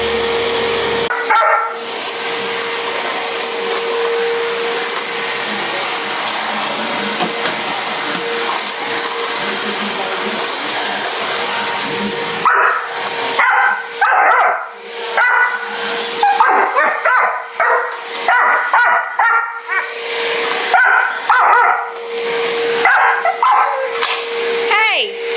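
A dog barks, yips and whimpers repeatedly at a loud household vacuum cleaner that drones steadily throughout, with the barking growing busier toward the end; a person speaks briefly.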